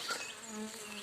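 A swarm of honeybees, just taken down from an apple tree, buzzes steadily and close around the beekeeper, a dense droning hum with no talk.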